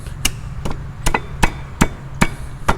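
A new wear ring being tapped into a Sea-Doo watercraft jet pump, seven sharp, close metallic hammer taps at a steady rhythm, alone without talk.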